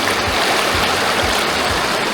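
Steady rushing of a clear mountain river current, a continuous broad wash of flowing water with no voices, loud and close.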